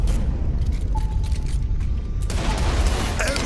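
Gunfire and explosions in the video game Saints Row The Third, dense booming blasts and rattling shots packed close together, loud and continuous with a brief tone cutting through the middle.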